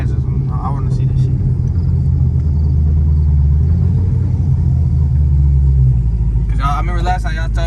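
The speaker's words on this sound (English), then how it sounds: "we about to get a flyby from him so we can see how it look going past us" A Dodge Charger rumbles past at close range with a deep, steady low engine drone that builds, then drops away as it passes. Voices talk near the end.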